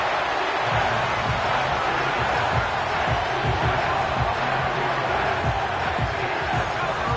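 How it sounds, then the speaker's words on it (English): Stadium crowd roaring in the Madden 25 football game, New Orleans against Atlanta, a steady loud wash of crowd noise lasting throughout with faint thuds, no clear talk. "The crowd making their presence felt."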